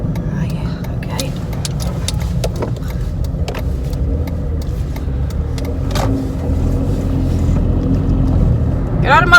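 A Land Rover engine drones steadily while driving, rising slightly in loudness toward the end, with people talking over the engine noise.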